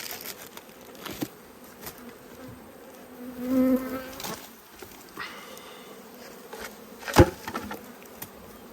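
Honeybees buzz in a steady, low drone around a small nucleus hive during a beekeeping inspection, with a few brief louder passes and knocks, including a sharp rap near the end.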